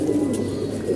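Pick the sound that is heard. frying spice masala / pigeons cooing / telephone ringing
pigeons cooing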